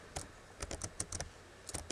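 Computer keyboard struck rapidly during a frustrating arcade game, with several sharp clacks in quick uneven bursts, close and fairly quiet, and no talking.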